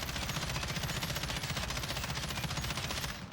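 Sustained automatic fire from an M13 rifle in Call of Duty Modern Warfare, with the rapid shots blurring into one loud, dense rattle that runs steadily for about three seconds before cutting off.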